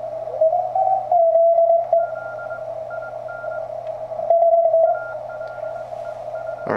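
A TenTec Century 21 radio is receiving a station, with a steady tone over background hiss and a faint hum. A fainter second tone keys on and off as Morse in short rhythmic bursts.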